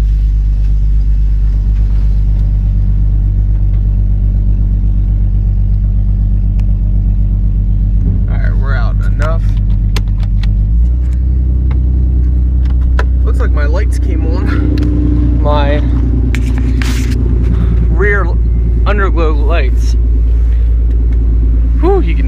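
A 4.0 V6 fitted with long tube headers runs loud and close, smoking heavily: a deep, steady rumbling drone that swells in pitch as it is revved, with someone talking over it.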